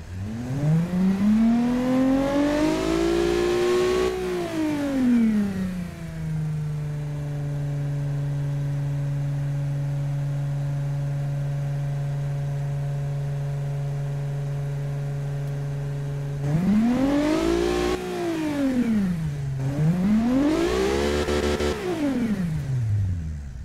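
A custom engine built for a Ford Fusion rival in the car tycoon game Automation revs up, settles into a steady idle for about ten seconds, then revs hard again twice, rising and falling loudly and alone.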